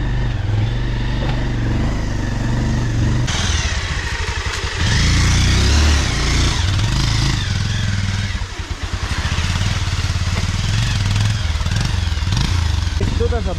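A motorcycle rides along a rough, roadless dirt track beside a river, its engine a steady, loud drone that surges and dips throughout with rattling and bumping underneath.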